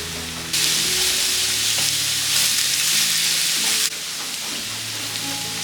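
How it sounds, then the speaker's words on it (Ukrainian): Carrots go into a hot frying pan for a green sorrel borscht. A loud, bright sizzle rises suddenly and holds steady for a few seconds, then drops back to a softer crackle. "Трошки підсмажили і одразу морковку додаємо."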